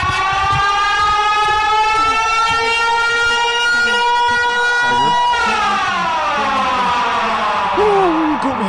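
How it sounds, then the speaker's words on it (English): Sirens in a Minecraft horror game, a loud wailing tone that holds steady, then drops and slides downward, layered over rumbling background noise while players talk excitedly beneath it. "I hear sirens"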